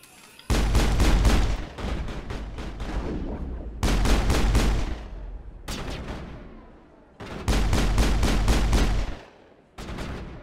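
Rapid bursts of gunfire from the video game Mass Effect, loud and close, coming in long repeated volleys separated by brief pauses, with no talking over them.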